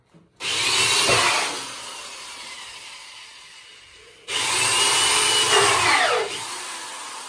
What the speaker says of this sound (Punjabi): ਮੈਂ ਡਰਿੱਲ ਵੀ ਚਲਾਉਂਦਾ ਰਿਹਾ